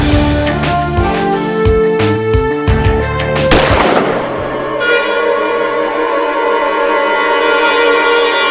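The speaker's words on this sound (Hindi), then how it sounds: "वरुण ये ले और गोली चलाओ" A handgun fires in the Adalat TV courtroom drama during a demonstration: a quick cluster of sharp, loud cracks in the first few seconds, then a ringing tail under sustained background music, with no talking.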